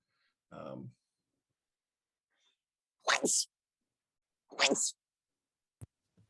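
Two sharp sneezes a second or so apart during a Dungeons & Dragons tabletop session, loud and close, with brief murmured speech before and a small click after in an otherwise quiet room.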